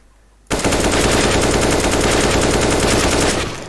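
CS:GO weapon fire bursts in suddenly: a loud, continuous automatic stream of shots running about three seconds at a steady rapid rhythm, then cutting off.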